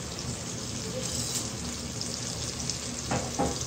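Whole garam masala spices fry in oil in a pot with a constant, moderately loud crackling sizzle, and a couple of brief stirring scrapes near the end.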